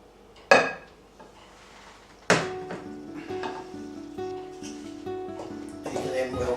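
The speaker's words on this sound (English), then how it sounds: "All the ingredients have been well mixed." A spoon mixes Christmas pudding ingredients, including eggs, milk and brandy, in a bowl. Two sharp clanks are followed by lighter clinks and a ringing scrape, close and clear, with speech in between.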